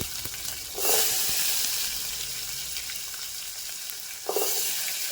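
Onions frying in a pan for a home-style tomato dish, a steady close sizzle with a sharp hiss burst as they hit the hot oil and another flare near the end, with stirring scrapes.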